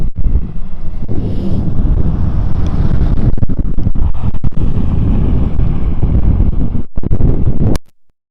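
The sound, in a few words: wind noise on microphone, snowy Dartmoor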